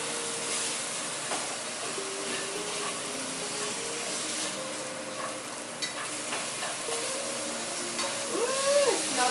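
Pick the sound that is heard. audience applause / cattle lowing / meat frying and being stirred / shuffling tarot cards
meat frying and being stirred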